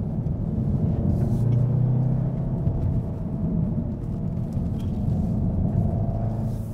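A 2015 Volkswagen Golf R in race mode drives hard through a twisty section, its steady engine and road rumble heard from inside the cabin, loud and continuous with no talk.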